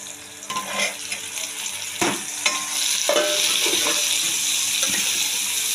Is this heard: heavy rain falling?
no